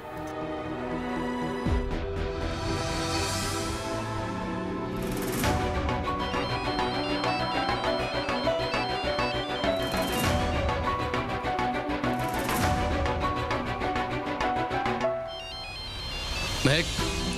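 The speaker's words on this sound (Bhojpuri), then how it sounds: "फोन बजता" A telephone rings continuously in a home, with a repeating tonal ring pattern and music-like layers throughout and voices briefly heard.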